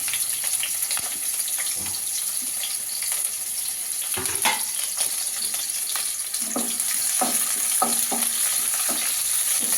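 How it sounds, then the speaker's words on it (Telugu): Onions and a bay leaf fry in hot oil in a kadai for a chicken curry with sorrel leaves, producing a continuous close sizzle with scattered utensil scrapes and clinks that grow busier toward the end, with no speech. "ఆయిల్ హీట్ కాగానే ఆనియన్స్ అయితే వేసుకోవాలి అలాగే బిర్యానీ ఆకు"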